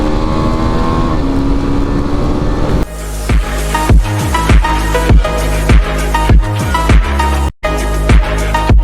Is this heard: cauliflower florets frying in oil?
no